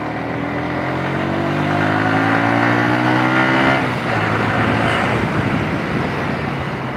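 A Yamaha Vixion motorcycle, freshly fitted with a new piston and bore, runs steadily at about 60 km/h, its engine tone rising briefly before settling into a constant drone mixed with wind rush.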